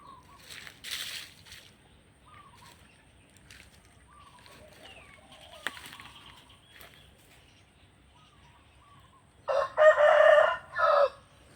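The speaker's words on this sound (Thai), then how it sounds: "ไก่ก็กำลังขันอยู่เลยครับ" A rooster crows loudly near the end, a long broken call after a quiet stretch of faint outdoor sounds and distant birds, near a bamboo grove and tamarind tree in the rainy season.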